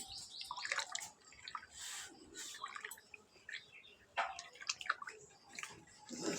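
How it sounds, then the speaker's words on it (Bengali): Warm chhana whey water is poured slowly into a pot, a soft, uneven splashing and trickling that swells and fades in waves, close by and quiet. "এই যে এখন ছানার জল দিব।"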